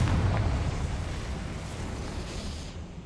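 A fiery spell explosion in the Hogwarts Legacy video game bursts loudly at the start, then rolls into a long rumbling roar that fades gradually over a few seconds.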